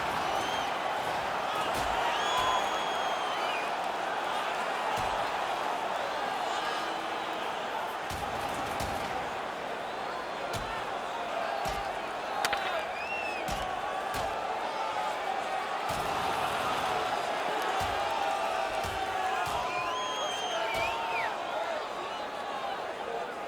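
Arena crowd roaring steadily through a hockey fight in the NHL 21 video game, a dense continuous cheer with scattered whoops and sharp impacts, and commentary talk running over it.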